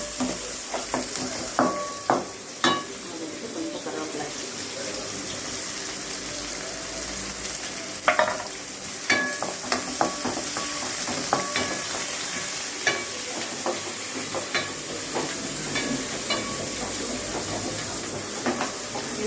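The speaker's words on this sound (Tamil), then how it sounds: "வெண்டைக்காய் எடுத்து போட்டு ஃப்ரை பண்ணணும் வெண்டைக்காய் வதங்கணும்" Okra frying in a pan for Andhra-style bhindi fry, a continuous hissing sizzle broken by frequent clinks and scrapes from stirring, close and moderately loud, no talking.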